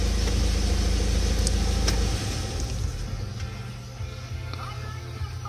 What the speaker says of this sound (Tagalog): So, tatry namin patayin yung makina. Tingnan namin kung magpa-function pa siya ulit.